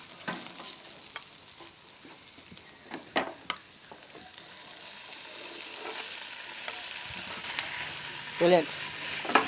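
Kangaroo meat with a roux browning in a hot pan, sizzling steadily with intermittent stirring clicks and scrapes, building louder toward the end, as a voice speaks briefly over it.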